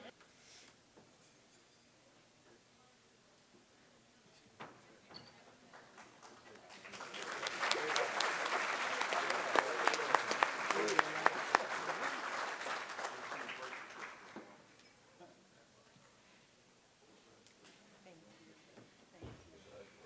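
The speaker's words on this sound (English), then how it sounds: "Say a nice round of applause, guys." Audience applause at a sports hall of fame induction ceremony, rising from scattered claps to a full round of clapping in the middle, then fading away, with speech before and after.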